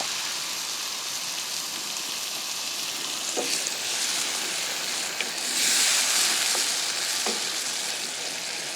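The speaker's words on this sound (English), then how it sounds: "Time to go in with your beer. A good old glug of redneck." Beer is glugged into a hot pan of browned onion, bacon and capsicum, setting off a loud, steady sizzle and crackle that flares up toward the end, with a few sharp clinks of utensils.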